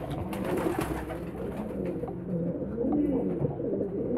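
Soft, repeated pigeon coos from young squabs murmur close by in a low, throaty rhythm, with a faint ambient background.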